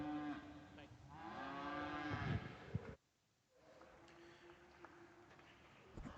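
Shorthorn cattle at a show give a loud, drawn-out moo up close, followed by a quieter spell with faint calls and hall noise in the background.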